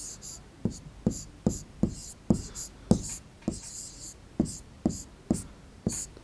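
Writing on a board in a primary school maths lesson on measuring length, about a dozen distinct tapping, scratching strokes in an uneven rhythm, close and clear, with no talking.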